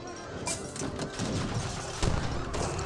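Field gun fire striking a town center in Age of Empires 3, with continuous rumbling battle noise, crashing impacts and a sharper hit near the end, loud and dense throughout.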